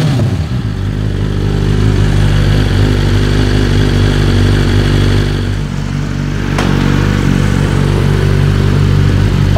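The engine of a 2023 BMW S 1000 RR motorcycle runs steadily, a loud close mechanical drone with a whirring clutch hub, continuous throughout with a brief dip and a sharp click partway through.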